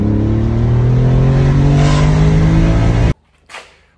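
A Porsche 993 RSR engine holds a loud, steady rev around 4000 rpm for about three seconds, then cuts off abruptly, followed by a faint short blip.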